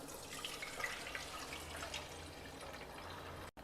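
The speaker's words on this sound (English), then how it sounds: "We will drain out the water." Water drains from soaked millet, giving a soft, steady splashing trickle close by that runs alone for a few seconds before cutting off abruptly.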